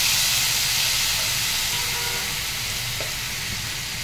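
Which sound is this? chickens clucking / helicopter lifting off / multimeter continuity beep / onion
onion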